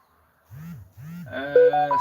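A phone notification goes off during a livestream: two low hooting tones, then a loud run of bright, rising electronic notes, close and clear, with no talking.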